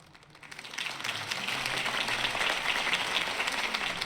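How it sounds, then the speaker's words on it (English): A crowd bursts into applause after a campaign speech in the Batman Vengeance video game, clapping rising quickly from quiet and holding as a dense, steady roar of hand claps. "If only Mr. Wayne, my campaign's largest backer, could have heard that applause"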